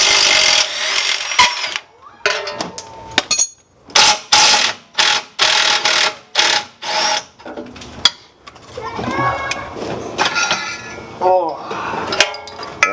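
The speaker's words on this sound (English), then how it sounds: "I'm gonna zap that out right now with the impact" An impact wrench zaps out the lower control arm bolts on a Nissan 370Z, firing in a series of loud, short rattling bursts with gaps between them, close up amid clanking garage noise.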